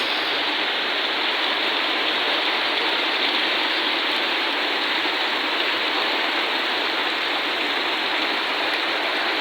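Heavy rain with stormy wind in Natore, Bangladesh, a dense, constant hiss of pouring rain and gusting air, loud and unbroken for the whole stretch with no voices.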